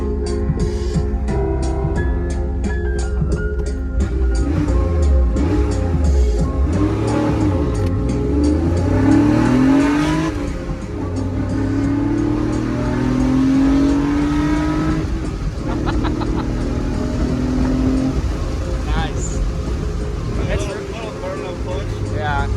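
A Porsche 911 engine revs as the car accelerates, the pitch climbing in long sweeps through the gears with rising and falling tones, loud and close, while people talk over it at a car meet.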